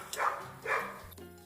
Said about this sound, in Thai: บางครั้งเวลาทำคลิปนะ ก็จะมีเสียงน้องหมาของข้างบ้านเห่าตลอดเวลานะคะ